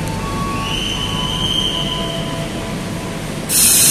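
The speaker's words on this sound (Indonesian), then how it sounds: "Jadi kereta bandara ini diadakan pada masa Pak Jokowi ya." An airport train rolls past at BNI City station in Central Jakarta with high metallic wheel squeals drawn out over a steady rumble, ending in a sudden burst of loud hiss.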